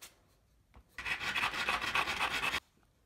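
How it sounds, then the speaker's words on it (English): Coarse 60 grit sandpaper rubbed across a wooden stake, a single continuous rasping scrape lasting under two seconds, close and clear after a brief faint touch. "Take some 60 grit sandpaper and flatten the edges of the stake."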